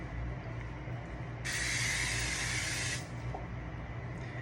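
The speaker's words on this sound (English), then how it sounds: "Spray the inside." Cooking spray hisses in one steady burst of about a second and a half into the inside of a pan, against a constant background hum.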